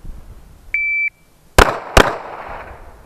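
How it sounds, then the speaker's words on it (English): Two pistol shots fired during a tactical pistol exam, sharp loud cracks about half a second apart, preceded by a short electronic beep from a shot timer. "Shooter, punch out and fire two."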